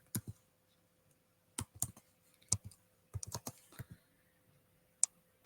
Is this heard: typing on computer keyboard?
yes